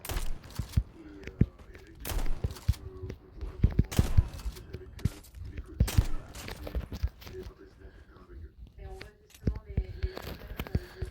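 Bursts of video-game gunfire crack out in irregular volleys, some rapid and clustered, others single, with voices and game music running underneath.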